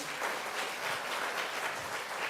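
A church congregation at a Taiwanese-language Sunday worship service applauds to welcome newcomers, a steady, dense wash of clapping from many hands that holds at an even level throughout, with no voices on top.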